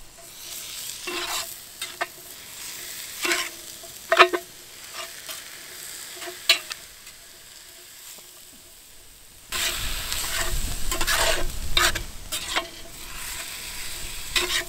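Meat for chili being stirred in a pot over a campfire, with intermittent scraping and clanks of a spoon against the metal, then a fuller, louder sizzle and stirring in the second half, close and without speech.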